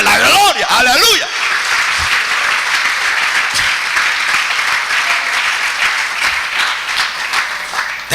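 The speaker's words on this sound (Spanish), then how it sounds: "Vamos a regalarle otra ofrenda de palmas al Dios de la gloria" A church congregation applauding God during a service, a dense and loud sustained clapping that follows a brief shouted voice at the start, filling the room evenly throughout.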